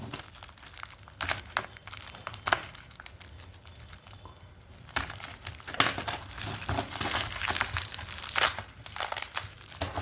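A packet holding coins is torn open and handled, giving bursts of close, crisp crinkling and crackling of plastic wrapping that come and go over about ten seconds, with no talking.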